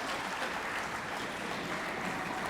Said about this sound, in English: Marianne and Dwight didn't get a clap. Let's clap.